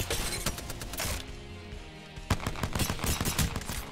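Rapid automatic gunfire during an Apex Legends gunfight, dense bursts of sharp shots, a short lull, then renewed heavy firing, loud and close.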